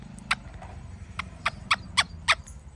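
A parrot gives a series of about six short, harsh squawks at irregular intervals, close by, over a low background hum.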